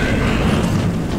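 A loud, dense video game explosion roar from Metro 2033 Redux, with a rumbling, sustained low end, filling the whole moment without a break.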